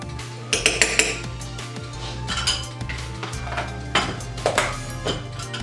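Vegan ackee and saltfish gets a quick mix with butter and salt in a pan, with a utensil clinking and scraping against the metal in short bursts over a low kitchen hum.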